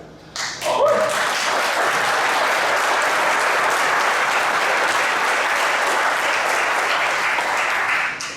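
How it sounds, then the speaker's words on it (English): Audience applause fills a community meeting on a neighborhood land use plan, a dense, steady wash of clapping that starts abruptly, holds evenly for several seconds at close range and tapers at the end. "I was not expecting applause today, so I appreciate that"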